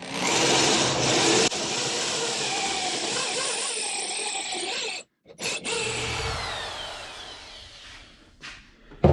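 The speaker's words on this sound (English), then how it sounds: "Standard 3/8 drill" A 3/8-inch power drill whirs steadily and close by while drilling a hole, with a brief stop partway through before it starts up again and runs on.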